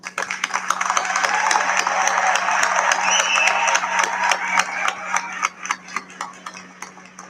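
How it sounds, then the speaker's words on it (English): An audience at a graduation ceremony applauds in a steady, dense wash of clapping that holds for several seconds, then thins into scattered claps toward the end. "let us take a moment to acknowledge that with a round of applause"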